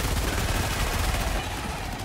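Sentry turret in Helldivers 2 firing a rapid, continuous stream of shots, loud and close, with a dense rattling barrage that keeps up for the whole two seconds.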